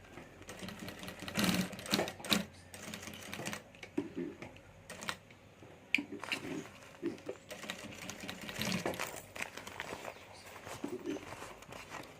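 A sewing machine stitches piping around the rounded edge of a handbag, running in short close bursts with brief pauses between them, with no voices.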